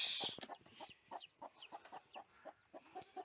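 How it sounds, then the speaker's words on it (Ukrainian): A hen with two chicks clucks in short, repeated bursts while the chicks peep faintly, a steady rhythmic series close by, just after rain. "А ще у нас курка. Висиділа двох курчат."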